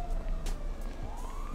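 Police sirens in the GTA 5 video game sweep up and down steadily over a low rumbling background, sounding fairly close and continuous.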